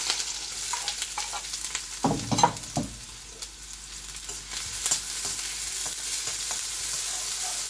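Onions hit hot oil in a wok with a sudden burst of crackling, then settle into a steady, close sizzle with light stirring scrapes, and no voices.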